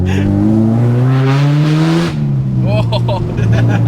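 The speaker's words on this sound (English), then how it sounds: "Always got to rev it for the kids." A K-swapped Honda Civic engine revs hard and climbs in pitch, then drops off and settles, loud and close, with a voice briefly audible near the end.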